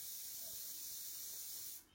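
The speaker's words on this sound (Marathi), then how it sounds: "आणि पाण्याला एक उकळी काढून घ्यायची." A pot of water seasoned with salt and peanut oil heats toward a boil, giving a steady bright hiss throughout that drops away abruptly just before the end.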